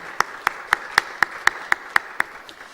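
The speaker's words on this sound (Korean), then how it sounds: "우리 다시 한번 석소망 지휘자님을 위해서 박수로 격려하겠습니다." A church congregation claps together during a Sunday worship service. The claps are sharp and evenly spaced, nearly ten strokes in a steady rhythm, with a faint room wash between them, and they trail off toward the end.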